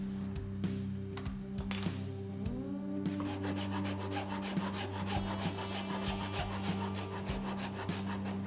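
A rasp files the wood of a Telecaster guitar body along its contour in steady, rhythmic scraping strokes, close and fairly loud, over a low constant hum.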